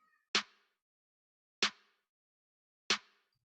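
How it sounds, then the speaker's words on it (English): Three separate hits of an Atlanta snare drum sample in Logic Pro X, shaped with a high cut and a treble boost, each a sharp crack with a short decaying tail, evenly spaced and played alone. "So for snare I have chosen Atlanta snare"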